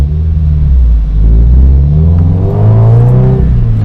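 A Toyota 86 engine idles and revs through a DC Sports cat-back exhaust, producing a loud, deep, droning tone with a slight rasp at the top end that rises and falls close by.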